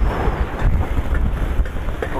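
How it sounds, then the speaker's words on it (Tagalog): Strong wind buffeting the microphone out at sea aboard a small boat, a loud continuous roar with gusty surges and wave wash underneath, no voices. "Ang lakas na ng hangin."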